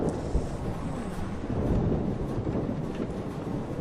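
A thunderstorm in Life is Strange rumbles on without pause, a low, rolling roar of thunder and rain with wind, moderately quiet and steady throughout.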